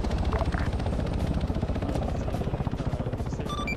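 Helicopter in a military shooter video game, loud and close, its rotor chopping in a fast, steady thumping rhythm that continues without a break.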